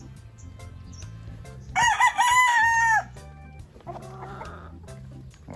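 Gamecocks at a fighting-cock market, including a straight-comb Kelso sweater, with one loud, drawn-out rooster crow rising out of steady background chatter and clucking, while someone speaks briefly.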